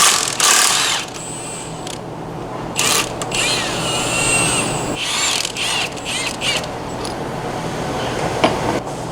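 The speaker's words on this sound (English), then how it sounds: "I'm going to take an 18 millimeter and take this primary apart" Mechanical tool noise fills the space while an 18 mm socket works loose the left-hand-thread clutch primary nut on a 2021 CFMOTO CFORCE 800 ATV, with loud buzzy bursts and rattles in a workshop.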